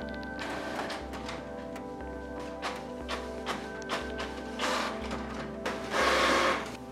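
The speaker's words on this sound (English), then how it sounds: "Let me start the Wi-Fi Direct setup by printing the network" Canon PIXMA GM4010-series inkjet printer printing a network settings page, a steady mechanical hum with rhythmic whirring feed passes and clicks building to a louder burst near the end, no talk.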